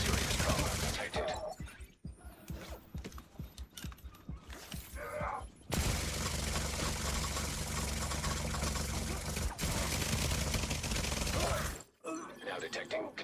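A turret fires in The Division 2 video game during a Dark Zone fight, loud rapid bursts of gunfire in close rattling volleys, broken by short pauses amid mechanical noise and people talking.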